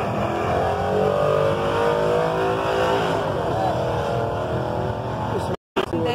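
A Chevrolet Camaro drives by with a close, rumbling engine note carrying layered harmonics, steady for several seconds before a brief cut just before the end.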